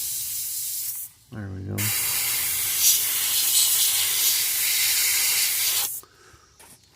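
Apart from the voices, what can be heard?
spray painting a largemouth bass lure pattern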